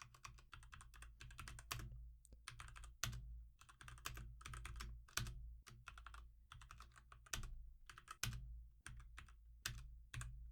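Code being typed on a computer keyboard, with quick bursts of close, crisp key clicks broken by short pauses and heavier thocks, quiet and without talk.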